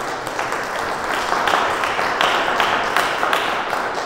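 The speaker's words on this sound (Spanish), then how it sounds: "Un fuerte aplauso a la festejada del día de hoy" Steady applause from a church congregation for a girl at her First Communion, a dense continuous patter of many hands clapping without pause.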